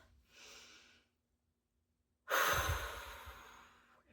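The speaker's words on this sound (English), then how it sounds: "And take a nice breath." A soft inhale during guided meditation, then a pause of silence and a louder, deep, airy exhale that tapers off, close and intimate with no talking over it.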